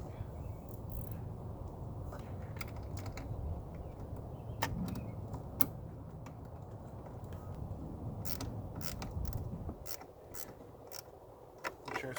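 A battery quick disconnect terminal is tightened by hand, giving faint ratcheting and metallic clicks over a low hum, with sparse, irregular ticks.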